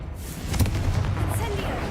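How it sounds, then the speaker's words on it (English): A Confringo blasting spell in a Harry Potter video game bursts with a sharp boom over a dense rumbling battle din, with a voice heard in the mix. "Confringo!"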